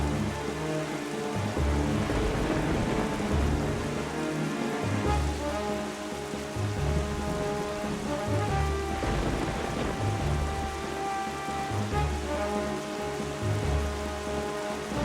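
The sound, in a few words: stormy sea rain and thunder in video game Zelda Wind Waker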